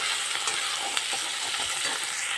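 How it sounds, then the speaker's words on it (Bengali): Onion and cumin seeds frying in a pan give a dense, continuous sizzle with occasional stirring scrapes, close and fairly loud, no voices. "যেহেতু পেঁয়াজটা এখনও ভাজা হবে, সেখানে কিন্তু জিরেটাও ভালো করে ওর সাথে ভাজা হয়ে যাবে"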